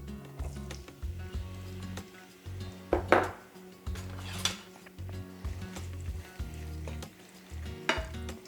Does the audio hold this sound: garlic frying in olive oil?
yes